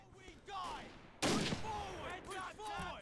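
Rolling battle gunfire in Men of War, with dense sustained shooting that grows louder after a sudden strong burst, the shots mixed with crackling combat sounds at a steady intensity.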